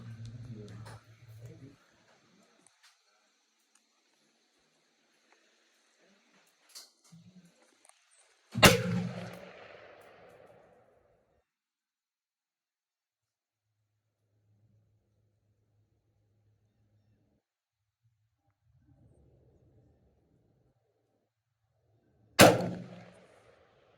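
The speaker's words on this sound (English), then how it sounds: "that was 2 shots. It's pretty loud, ain't it?" Two loud, sharp gunshots at a target 50 yards away, fired far apart with long quiet gaps between them. Each crack rings briefly afterward, and a person speaks briefly before the first shot.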